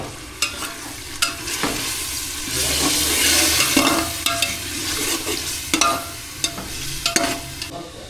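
Tomato puree frying in a pan for egg biryani is stirred continuously, giving a steady loud sizzle broken by repeated scraping clicks of the spoon against the pan, with no talking.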